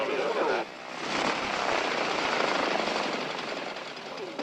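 A T-41 light propeller airplane engine drones steadily nearby, a buzzing, throbbing roar that swells slightly and holds, with a brief voice at the start.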